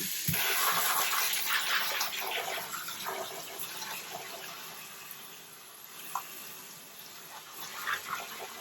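Mushrooms rinsed under a running tap give a steady, close splash and hiss of water into a sink, fading slightly before small spatters near the end.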